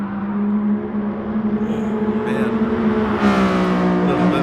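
Race cars circling Laguna Seca in Gran Turismo Sport on cold tires, a steady loud engine drone with harmonic whine that swells at around three seconds as another car revs up and passes close by, continuous throughout with no talk.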